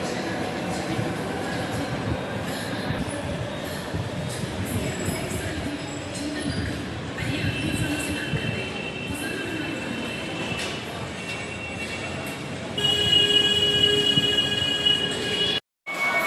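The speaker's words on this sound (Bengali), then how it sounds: "এখন দাঁড়িয়ে আছে, আবার মেট্রো আসবে" A Kolkata metro train runs close by with a steady heavy rumble and high, sustained wheel squeal that grows sharper near the end before a brief cutoff; faint voices sit underneath.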